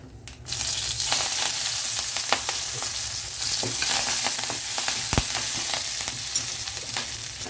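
Dried chillies, asafoetida and curry leaves hit hot oil in a pan for onion chutney tempering: a sudden burst of loud, steady sizzling and crackling close by, with occasional stirring scrapes and pops.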